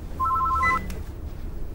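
A telephone rings nearby with a single short electronic ring burst in a room, followed by a brief click and quiet room noise.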